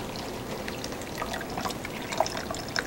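Dirty water is poured into a model kidney filter, a steady close-up splashing trickle with scattered drips and no talk.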